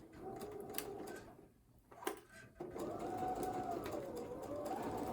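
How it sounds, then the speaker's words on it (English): A sewing machine stitching fabric runs in a steady mechanical whir, pausing briefly near the start before resuming its continuous hum close by at a moderate level. "So I'm just going to start sewing these."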